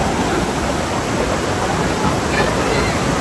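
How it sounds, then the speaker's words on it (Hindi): Waterfall at Baan Ganga on the Vaishno Devi pilgrimage route, a steady broadband roar of rushing water filling the whole clip, close and loud with no pauses. "बहुत शानदार झरना बह रहा है"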